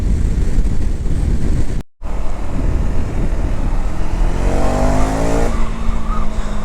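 Motorcycle fitted with an Akrapovič exhaust pulling hard at full throttle, a loud continuous engine roar with rising revs and a brief cut near two seconds, close and dominant with no talk.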